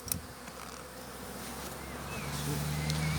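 Honeybees buzz around an opened hive during a transfer from a nucleus box into a full hive, a continuous close droning hum that swells slightly toward the end, with a few sharper passes of individual bees.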